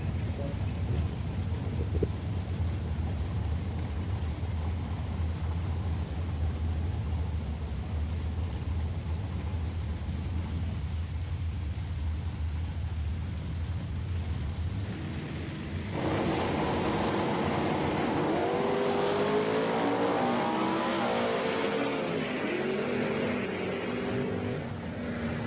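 A 1967 Camaro from Bonney Lake, Washington, makes a drag strip run at Woodburn, Oregon: steady engine roar and wind noise, then a harsher, louder rising rev with gear changes near the end.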